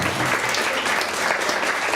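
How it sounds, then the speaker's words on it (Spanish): Brief burst of audience applause during a talk on accelerated learning and reading speed, a thick, continuous crowd clapping at full strength. "Un aplauso."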